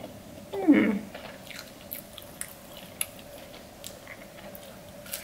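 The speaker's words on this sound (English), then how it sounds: "I'm gonna go ahead and eat this mozzarella stick because it looked really good" Someone bites into a mozzarella stick and chews it up close, a single soft crunch followed by quieter moist chewing and small mouth sounds in a quiet room, with no talking.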